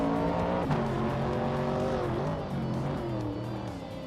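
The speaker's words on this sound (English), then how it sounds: "The vintage Trans Am cars are closely matched, but the track's tight corners seem to favor the older Camaros and Javelins." Vintage Trans Am race cars, Camaros and Javelins, scream past on a tight circuit, engines revving and shifting pitch as several cars pass close by in quick succession, with a brief tire squeal.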